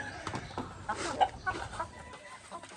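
White leghorn chickens, hens with a young rooster among them, cluck in short irregular bursts at close range, with no voices over them.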